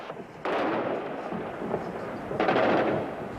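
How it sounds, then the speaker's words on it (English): Anti-aircraft flak and explosions fill the night sky during an air raid at the start of the 1991 Gulf War, heard as distant rumbling bursts and crackling barrages that swell twice in loud waves. "A lot of flak going up in the air, all these tracers crossing, white blinking. Two big explosions."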